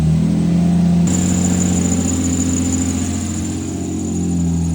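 Lamborghini Murcielago engine after repair work, running at a loud, steady idle close by, with a smooth low hum and a high whine above it and no voices.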